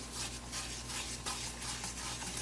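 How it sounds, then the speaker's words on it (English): A spoon stirs sugar into melted butter in a pot, making a soft, continuous scraping swish with faint sizzling underneath, quiet and close, with no talking. "Stir that in."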